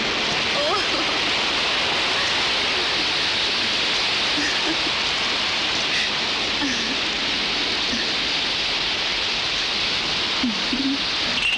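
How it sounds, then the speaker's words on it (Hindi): Torrential downpour pouring steadily as a dense, loud, unbroken hiss of heavy rain, with a voice briefly audible beneath the roar. "और मूसलाधार बारिश होने लगी।"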